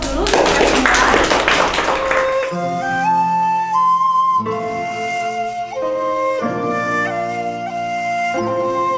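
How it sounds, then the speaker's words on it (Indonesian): A dense burst of clapping breaks out from an audience at a ribbon-cutting launch ceremony. After about two seconds it gives way to tuneful music. "Boleh beri aplaus dulu untuk semua."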